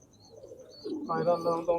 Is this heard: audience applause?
no